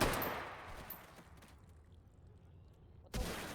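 Gunfire in a shooter video game: a loud shot's rumbling tail fades out, and after a short lull another sharp shot bursts in near the end.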